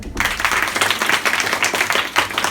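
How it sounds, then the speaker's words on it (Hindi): Students clapping in a classroom at a free education centre during a National Science Day lesson, a burst of close, fairly loud, busy hand claps filling the whole moment. "ताली बजाओ इनके लिए।"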